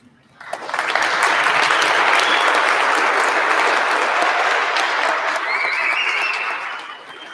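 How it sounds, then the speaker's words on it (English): A standing ovation for a retiring fire chief at a swearing-in ceremony, with applause swelling in quickly and holding as a loud, dense, sustained roar of many hands before easing slightly near the end. "I would appreciate if we could give him a standing ovation one last time"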